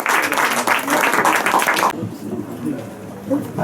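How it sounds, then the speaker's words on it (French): At a slam poetry night in a wine cellar bar in Nice, the audience gives a short burst of dense clapping that cuts off sharply after about two seconds. Quiet room murmur follows the applause. "je vous demande d'applaudir"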